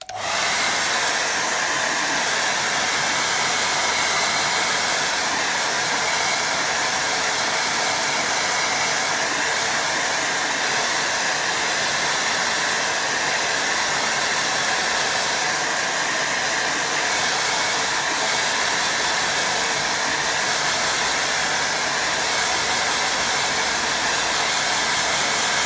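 A hair dryer blows steadily on a watercolour painting, a loud continuous airy roar with a constant pitch that holds unbroken for the whole stretch, close up with no talk.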